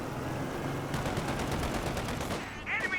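Small arms gunfire from a Company of Heroes 2 battle, a dense rattle of rapid shots going on steadily throughout, with a brief whistling sweep near the end.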